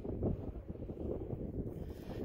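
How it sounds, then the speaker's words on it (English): Gusty wind from the north buffets the microphone during a wind storm, a steady low rumble that swells and eases, with no voices heard. "And now the wind's coming out of the north."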